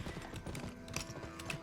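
Horse hooves clip-clopping at a steady gallop in the Western video game GUN, a fast repeating rhythm of close, moderately loud hoofbeats with faint background game ambience.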